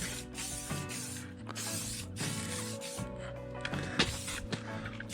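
Detailer sprayed onto a Honda Fury motorcycle in a series of short hissing bursts with clicks of the trigger, close and moderately loud.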